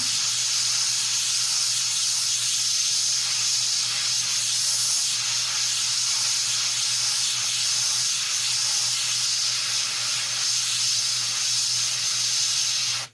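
An airbrush sprays paint onto a figure in a steady, close, unbroken hiss that lasts throughout and cuts off at the end.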